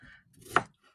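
A single knife chop through potatoes on a board for Irish stew, one close sharp cut after a faint lead-in, then quiet.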